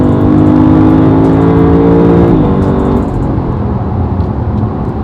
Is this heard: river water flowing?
no